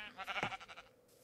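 A sheep in the Minecraft video game gives a short single bleat, quiet and close, with a brief wavering tone and no talk over it.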